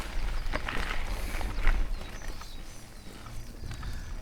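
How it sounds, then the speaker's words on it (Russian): Horses walking up to a watering place beside an asphalt road in rural Yakutia, with soft, irregular hoof clops at moderate distance over outdoor wind and ambient noise. "лошадки на водопой пришли"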